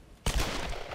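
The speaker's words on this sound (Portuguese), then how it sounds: "As explosões do jogo," Quiet start, then a sudden sharp burst like a gunshot or explosion followed by a sustained rumbling blast, loud and close, in the video game Tomb Raider.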